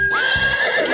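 A horse neighs loudly and close by, a single drawn-out whinny that rises and then wavers down over about a second, heard alone.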